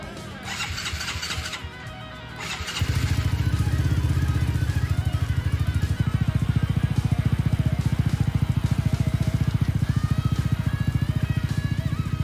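A Yamaha Mio scooter, converted from carburetor to fuel injection and bored up to 150cc, cranks briefly, then catches and settles into a steady, loud, close idle with a fast even beat.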